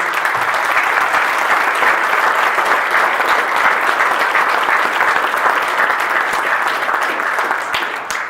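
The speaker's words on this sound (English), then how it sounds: "So can we get a round of applause for them showing up tonight?" Loud, sustained applause from an audience at a community award event honoring a family, dense clapping throughout that starts to thin out at the end.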